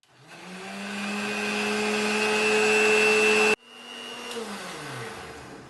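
An electric mixer grinder whirs steadily as it blends tomato soup in a juicer jar, rising in pitch and loudness for about three seconds before stopping abruptly, then briefly spinning up again, close and loud with no talking.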